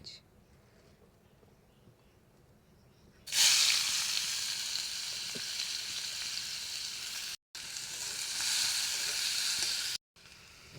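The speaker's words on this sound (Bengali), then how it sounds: "দেখো পেঁয়াজটা ভালো করে ভাজা হয়ে গেছে" Onions with salt fry in a pan. A loud, steady sizzle bursts in after a quiet start and continues close up, broken by two abrupt silences.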